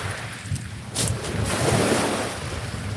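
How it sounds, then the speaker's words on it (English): Ocean waves wash onto a shore with a steady, broad surf hiss, swelling louder around the middle and mixed with some wind rumble on the microphone. "Listening to the waves of the water."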